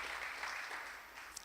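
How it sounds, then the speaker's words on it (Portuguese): Applause from a church congregation during a worship service, a steady, dense wash of many hands clapping together throughout, fairly soft and even in level with no break. "E dê um forte aplauso para Jesus."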